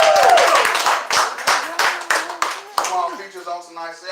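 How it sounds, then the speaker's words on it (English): An audience at a poetry show claps for the poet Black Widow in dense, close applause that thins out while a host's voice speaks over it. "Keep clapping, y'all. Give it up for Black Widow."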